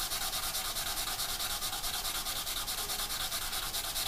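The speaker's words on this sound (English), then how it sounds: "Coming in with our quite rough sanding sponge, and we're just going to give it a light rub over." A rough sanding sponge rubbed over the plastic of a Hasegawa 1/48 Draken model kit, rapid even back-and-forth scratchy strokes in a steady rhythm, close and continuous.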